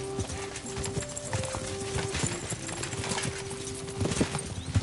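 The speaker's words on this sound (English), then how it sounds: "I'd carry on steadily, so as not to wear out the horses." Horse hooves clip-clop at a steady trot in Kingdom Come Deliverance II, loud and close with irregular overlapping beats, joined by faint tack jingles and rolling background ambience.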